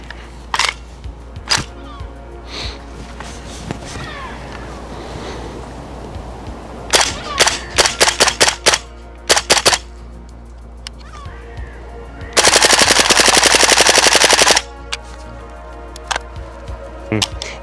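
A GHK AKM gas blowback airsoft rifle fires several sharp single shots and then a dense full-auto burst lasting about two seconds, close and crisp, with scattered clicks between the shots.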